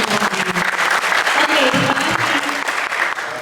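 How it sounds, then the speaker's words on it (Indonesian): Audience clapping at a live-streamed community talk event, a dense burst of applause from a crowd that holds steady for a few seconds, with some voices mixed in. "Kita tepuk tangan dong buat teman-teman."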